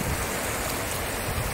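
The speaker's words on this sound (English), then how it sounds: "A little spot on the river, the Cayuche meets the Fraser." Rushing river water where the Cayoosh meets the Fraser River near Lillooet, a steady, close, broadband roar with no pauses and no voices.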